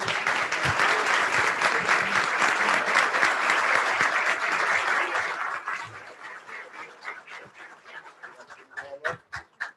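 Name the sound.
applause for service award winners at a city council meeting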